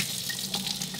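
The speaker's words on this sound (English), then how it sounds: "You have to wash your hands first." Hands washed under a running household tap, a steady hiss of water streaming into a sink, close and continuous with no voices over it.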